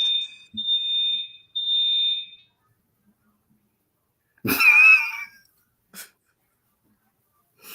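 Fire alarm sounding three shrill, high electronic beeps close by, followed after a pause by a brief breathy vocal noise and a short click.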